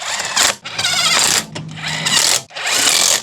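A power tool tightens the wheel lug nuts on a Honda HR-V in three loud, close buzzing bursts separated by brief pauses.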